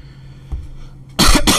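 A person coughs, with a faint throat sound early on followed by two loud, close bursts of coughing near the end.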